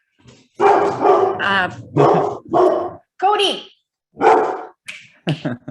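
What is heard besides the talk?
dog barking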